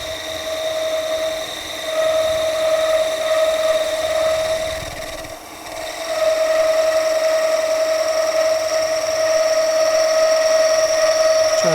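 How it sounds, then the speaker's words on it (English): A skew chisel cuts wood turning on a lathe, giving a steady, loud mechanical whine with a sustained tonal hum that dips briefly mid-cut before resuming evenly. "I'm just trying to make sure that skew is kind of constantly cutting as we come along the length."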